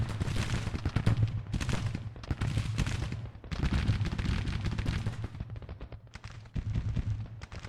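Repeated volleys of musket and cannon fire from a Civil War battle in the strategy game Grand Tactician, heard as rolling bursts of overlapping shots and rumbling booms that come in waves with short lulls between.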